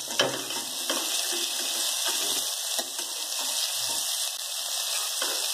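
Chicken pieces frying in oil in a pan after being turned over, a steady close sizzle with a few soft clicks of handling, while someone speaks briefly over it.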